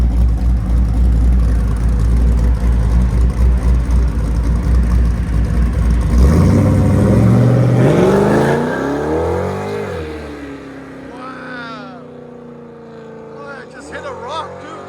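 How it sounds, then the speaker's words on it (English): A loud cammed Chevy 6.0L V8 with headers and Magnaflow exhaust roars and revs hard for several seconds, then its pitch swings up and down as it fades, ending with faint sweeping whines. "I hope you enjoyed the exhaust."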